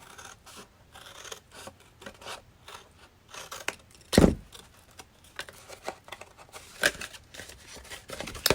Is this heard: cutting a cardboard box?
yes